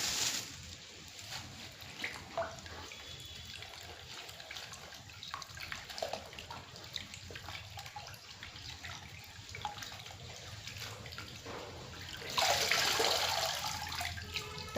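Tap water running and splashing while coriander and mint leaves are rinsed clean, a steady wash that swells into a louder gush near the end.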